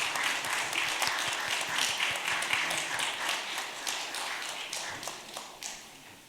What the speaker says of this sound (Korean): 자리에 앉을 때까지 우리 한번 박수로 한번 정리할까요?